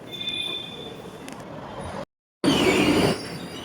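A train rumbles and clatters through a railway station beside Baranagar metro, with wheel screech and a steady roar heard close, broken by a brief cut before the noise returns louder.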